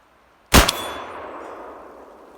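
A shotgun loaded with a 3-inch shell hits a metal gong target once outdoors, giving a sharp, loud clang that rings on and slowly fades.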